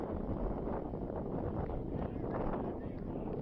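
Steady wind buffets the microphone on an outdoor football pitch at a university on a windy morning, a continuous low rumbling roar with gusty swells and no clear speech.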